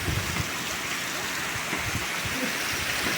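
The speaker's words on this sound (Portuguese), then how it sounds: "E a chuva tá forte, viu?" Heavy nighttime rain pours down in Missão Velha, in Ceará's Cariri region, amid wind and thunder, as a continuous loud hiss of downpour with low rumbling pulses underneath.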